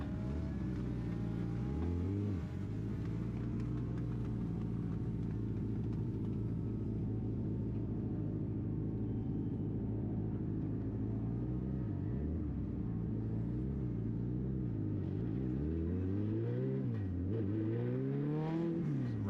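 Stock cars race at EchoPark Speedway, a pack of engines roaring and droning together with pitch sweeps as cars pass and accelerate, loud and continuous throughout.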